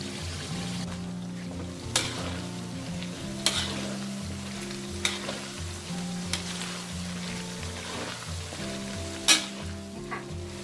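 Chopped garlic fries in oil while being stirred, a steady close sizzle broken by sharp spatula scrapes every second or two, with background music underneath.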